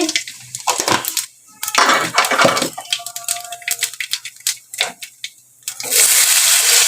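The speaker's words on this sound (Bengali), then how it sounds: "এই কালো জিরা ফোড়ন দিচ্ছি" Nigella seeds sizzle and crackle as a tempering in hot oil in a worn non-stick pan, with bursts of loud spattering, brief pauses and a steady hiss building toward the end.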